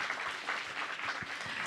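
An audience claps steadily for the band, a dense, even wash of applause from a crowd at moderate distance, with a few faint voices mixed in.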